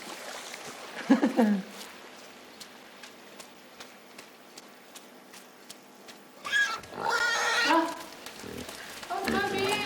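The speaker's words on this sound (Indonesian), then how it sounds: "Oh, babi." A pig oinks and grunts in the video game Inside, a short burst early on, then heavier snorting sounds later, set against rain and mud ambience.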